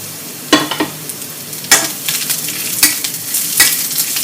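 Garlic and chili sizzle in a hot pan while being stirred, with a steady frying hiss broken by four sharp scraping strokes at regular intervals, close and loud.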